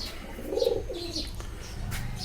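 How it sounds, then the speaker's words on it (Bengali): Pigeons cooing inside a pigeon loft, a few soft rounded coos up close with light chirps and rustling around them, no voices. "পায়রার বাচ্চাগুলো বেশ ভালো আছে"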